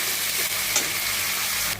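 Potatoes frying in oil in a wok, a close, loud and even sizzle with a faint stirring tap midway, no voices.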